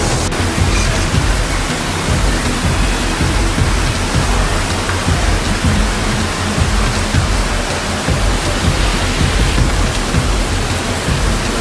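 Floodwater surges through the streets of a Brazilian city, a loud, dense, unbroken roar of rushing water that fills the scene without pause.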